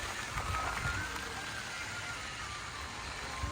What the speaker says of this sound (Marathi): बघा पाऊस चालू झाला